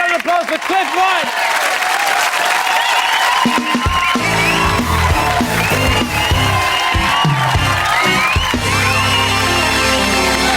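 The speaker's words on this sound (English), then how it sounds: "And a big round of applause for Cliff White!" A television comedy studio audience claps and cheers loudly throughout, with whoops rising over the applause while bright theme music plays underneath.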